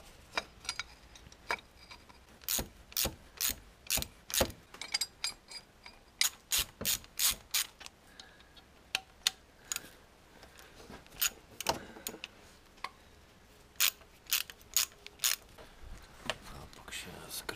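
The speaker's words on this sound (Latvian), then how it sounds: "kronšteins skrūvas pievilku" Rapid ratchet clicks in bursts while bracket screws are tightened during a car thermostat replacement, the sharp ticking coming close and loud in repeated short runs with brief pauses between them.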